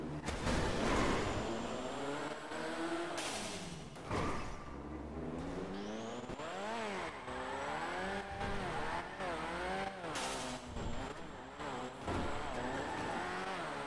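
A JDM car drifts in a GTA Real Life Online session, with its engine revving and tires squealing in long, sliding bursts and sharp pitch sweeps, close and continuous.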